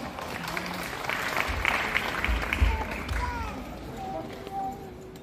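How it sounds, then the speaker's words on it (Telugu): Applause breaks out at a disability-awareness event held for Helen Keller's birthday, welcoming a zonal officer as guest. The clapping from the gathered audience is moderate and fairly close, with voices heard amid it. "చప్పట్ల ద్వారా స్వాగతం"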